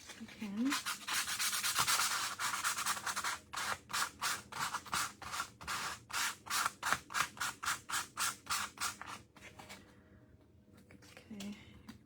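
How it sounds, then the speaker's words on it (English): Wooden egg-shaped pansy and lilac shelf sitters are sanded by hand, first a steady rasping scrub, then a long run of quick rhythmic back-and-forth strokes, close and clear, ending in quiet. "so I have to sand these ones, and I might just leave these on my board and sand them if I can"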